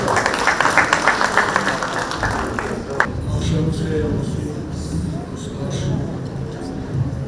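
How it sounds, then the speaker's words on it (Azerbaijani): An indoor audience applauds to welcome a speaker at a literary event, dense clapping near and loud at first, then fading into quieter scattered claps with murmuring. "Hacı Loğman Qorqud Babacanlılı alqışlarınızla dəvət edilir."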